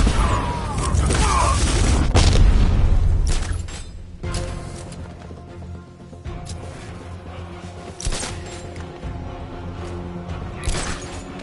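An explosion in the Batman Arkham Knight video game, a deep booming blast with crashing debris in the first few seconds that fades into rumbling game sound with scattered later impacts.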